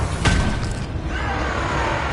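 A Confringo fire spell blasts out in the Hogwarts Legacy video game, a sharp booming burst near the start that trails off into a loud crackling, whooshing wash of magical combat.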